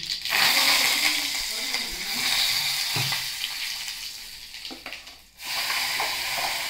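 Phodni tempering sizzles steadily in hot oil for a coconut chutney in a Konkan village kitchen in Naringre, Devgad, a bright continuous hiss with small crackles, cut short near the end before resuming.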